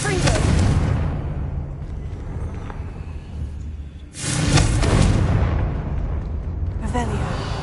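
Confringo blasting spell explosions in Hogwarts Legacy, two loud broadband blasts a few seconds apart, each with a harsh burst that fades into a rumbling decay.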